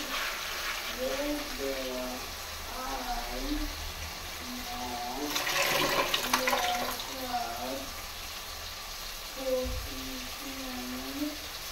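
Soya chunks (meal maker) rinsed in water in a home kitchen slosh and splash close by, with a louder swish in the middle, while someone talks over the sound.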